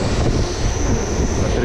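A MEMU passenger train pulls out of Thrissur railway station, heard as a loud, steady rumble with continuous low-frequency roar and wheel noise, close and unbroken throughout.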